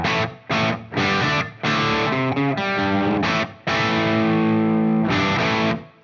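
Electric guitar through a mid-gain Marshall-style Super Sheriff amp model in vintage mode, played as crunchy distorted chords and a short riff, with brief pauses between strums and a long ringing final chord.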